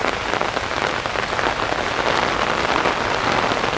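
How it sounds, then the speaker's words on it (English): Steady rain falls on a disused railway corridor north of Bukit Panjang, Singapore, a dense, even hiss of drops hitting foliage and ground, loud and continuous with no voices. "The rain keeps falling."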